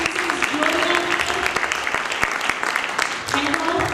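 Applause from an audience at a women's medical awareness seminar in Youhanabad, sustained and fairly loud across the whole stretch, with some tonal sound from the hall running through it.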